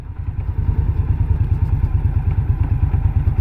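An Indian Scout Bobber Twenty motorcycle rolling along in third gear at about 1400 RPM, its V-twin engine thumping in a steady, low, loping rhythm, close and loud throughout.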